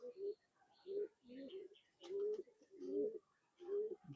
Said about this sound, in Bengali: আমার খুবই পছন্দের একটা বাচ্চা কবুতর।